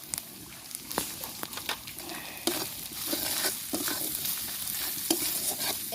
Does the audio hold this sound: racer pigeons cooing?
no